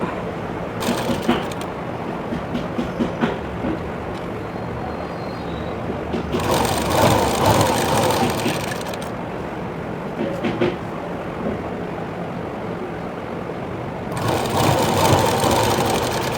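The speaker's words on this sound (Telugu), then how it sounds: "ఇలా పర్ఫెక్ట్గా కుట్టుకుంటూ వచ్చేసేసి" A sewing machine stitching a fall onto a saree runs in loud bursts, with quieter pauses between stretches of steady whirring.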